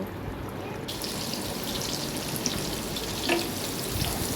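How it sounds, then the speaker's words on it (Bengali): Sliced onions frying in oil on a stovetop burner, a steady close crackling sizzle that runs throughout with no talk. "এবার চুলার অন্য পাশে আমি পেঁয়াজ বেরেস্তা করে নিব"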